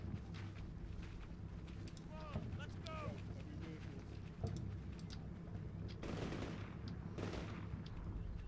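Machine gun fire in the video game Combat Mission Shock Force 2, with a few bursts of shots heard at a distance under steady background noise and some talk.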